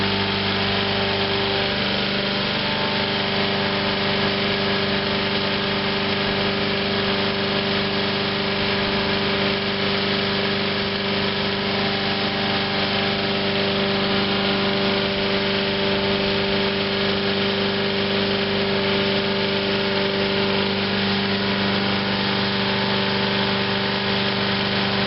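A lawn mower engine runs steadily and loudly up close, a continuous droning with a slight unevenness as it begins to hesitate, with no voices.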